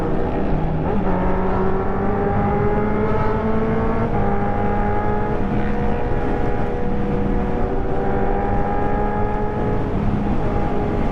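Continuous motorcycle engine roar through a Villain R9 exhaust, with rising and falling revs, loud and close, a steady droning exhaust note running throughout.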